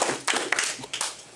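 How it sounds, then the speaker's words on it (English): Audience applause at a roast, a short burst of clapping from a crowd that swells quickly and then thins out, fairly close and with no talk over it. "Let's give him a round of applause."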